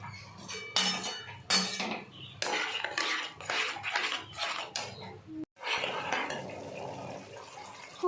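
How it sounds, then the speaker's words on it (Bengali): A small splash of water poured into a cooking pan while making doi paneer with cashew paste, amid sharp clinks and scrapes of utensils against the metal pan. "খুব সামান্য একটু জল দিয়ে দেবো"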